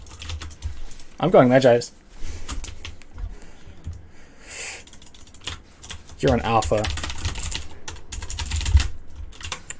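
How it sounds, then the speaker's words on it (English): Keys on a computer keyboard sitting right in front of the microphone clatter loud and close in quick irregular bursts during a League of Legends match, with someone talking between them. "My mic's in front of my keyboard, so I have to type weird."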